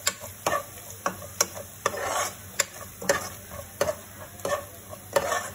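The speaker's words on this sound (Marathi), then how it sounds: "खेकडे टाकतोय आणि आता ते या ग्रेव्हीमध्ये चांगले परतून घ्यायचे" Cleaned crabs fry in a thick onion-garlic masala curry gravy and are stirred, with regular sharp spoon scrapes against the pan about every half second over a steady sizzle close by.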